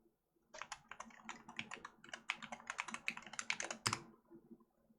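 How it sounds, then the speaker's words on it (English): Fast, uneven clatter of typing on a computer keyboard, a run of crisp keystrokes close up over about five seconds, ending with a heavier key press and no talking. "I'm just gonna type it in."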